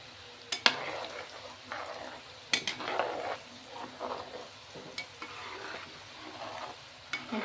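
Spice tempering frying in hot oil for a curry leaf preserved chutney, the ingredients including asafoetida and turmeric; a soft, steady crackle and sizzle runs throughout, with several sharp utensil taps and clinks of stirring, no talk.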